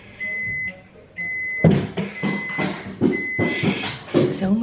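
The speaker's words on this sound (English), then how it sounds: "My rice just beeped, so that's ready, and Mary is throwing stuff down the stairs." A rice cooker beeps to signal the rice is done: two sustained electronic tones sound alone in a quiet kitchen, then the tone carries on under close, lively talk.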